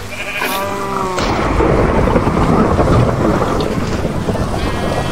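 A deep, rumbling Minecraft thunder strike crashes in after a short tonal chime, then rolls on loudly and steadily for several seconds.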